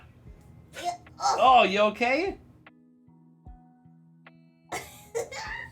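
A dog coughing in short hacking bursts, a cluster near the start and another toward the end, with a person's concerned voice speaking in between.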